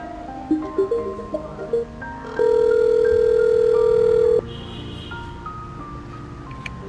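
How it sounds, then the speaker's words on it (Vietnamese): A phone call placed to a customer: a few short electronic beeps, then one steady ringing tone that lasts about two seconds and stops, leaving quiet line hiss. "Bây giờ mình sẽ tiến hành gọi điện cho khách để hướng dẫn khách kích hoạt máy ở bên trong nhé."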